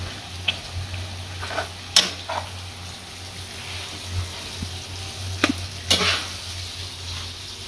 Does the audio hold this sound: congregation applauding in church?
no